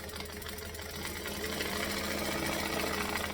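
Sewing machine stitching two fabric linings together along a seam while adding a panel, a steady fast mechanical whirr that runs continuously and fairly loud, with no voices.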